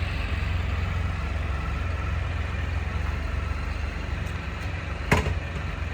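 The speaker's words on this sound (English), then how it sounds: "you read the safety card, and then you just start the bike" A Can-Am Spyder three-wheel motorcycle idles with a steady, low rumbling drone, close and constant, with one brief sharp click near the end.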